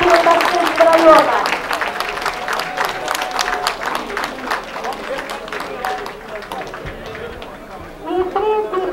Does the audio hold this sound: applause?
yes